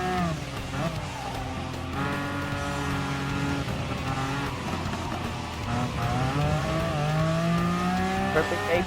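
A Ferrari Enzo hypercar races in Gran Turismo Sport, its engine revving loudly through rising and falling gear sweeps, with brief tire squeal as it corners, continuous and close throughout.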